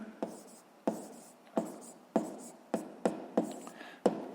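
A pen writing down a math answer in a sixth-grade exercise, a series of about eight short, evenly spaced scratchy strokes, close and fairly clear.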